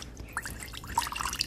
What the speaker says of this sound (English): Fill the warm water here.